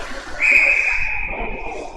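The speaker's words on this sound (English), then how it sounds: "But we do have a whistle." A referee's whistle at a high school ice hockey game blows one long, steady shrill tone over a low rink murmur.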